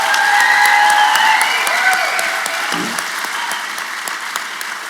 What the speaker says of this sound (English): like we got to cheer every time we hear that